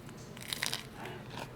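Someone bites into a crunchy forkful of a hot-and-cold high-protein dinner, giving a few close, crisp crunches in quick succession followed by softer chewing.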